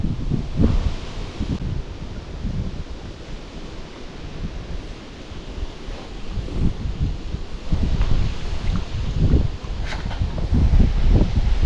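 Steady strong wind roars and buffets outdoors on the water from a fishing boat, a broad rushing noise with gusts swelling and easing throughout.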